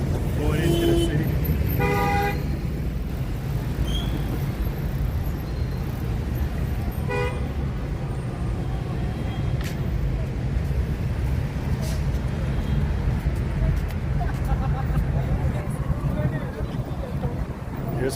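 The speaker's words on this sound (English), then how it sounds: "See, there's traffic going into the city." Heavy city street traffic going into Bogota, Colombia, with a steady low rumble of passing cars and buses and a few short horn toots near the start. A voice speaks briefly over the noise.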